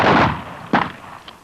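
Two sharp pistol shots ring out in a police shooting drill, the first already decaying at the start and the second cracking about three quarters of a second later, loud and close with a fading outdoor echo.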